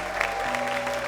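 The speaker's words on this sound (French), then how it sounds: "Applaudissez avec moi Rico Amage" Studio audience at a French televised singing contest applauds steadily as a semi-finalist singer-songwriter is introduced, the clapping sustained and fairly even beneath a held musical tone.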